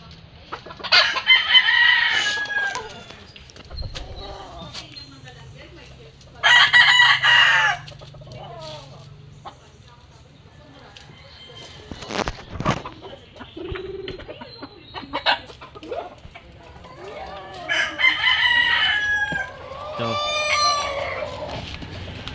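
A 10-month-old backyard broodcock crows and clucks close by, with repeated loud crowing bursts and softer clucks between them, and no talk over it.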